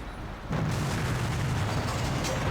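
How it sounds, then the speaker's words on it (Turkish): A blast in the Mafia game during a restaurant raid: a sudden boom with no sharp attack, swelling into a sustained loud rumble that carries on without fading, with no talk over it. "My ears are ringing from that blast"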